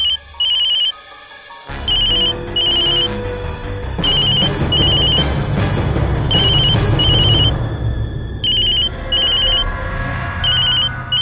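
A telephone rings repeatedly in bursts of electronic trills, loud and close, over a busy background of noise and movement.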